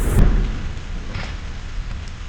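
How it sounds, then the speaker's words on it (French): Steady rain hisses in the background with a low, continuous rumble, fairly loud and unbroken, no voices. "Alors lorsqu'enfin la pluie revient"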